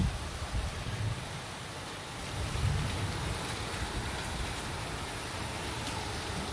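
Heavy rain pours down steadily on a rural South African farm, a dense, even hiss of water that fills the air without a break.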